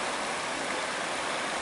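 A small river babbles steadily at close range, a dense, continuous splash and gurgle of flowing water with no voices over it.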